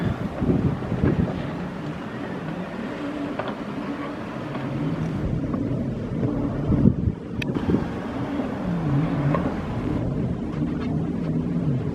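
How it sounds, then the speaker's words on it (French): Strong sea wind at Dieppe buffets the microphone in continuous low gusts, with a droning engine hum running underneath throughout. "Il y a beaucoup de vent"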